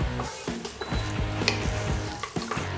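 Onions and garlic fry gently in oil over low heat, a soft continuous sizzle broken by repeated scraping stirs of a utensil in the pan, close and with no talking.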